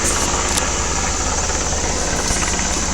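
Steady, loud helicopter rotor and engine drone, continuous and close, filling the whole moment without any talk.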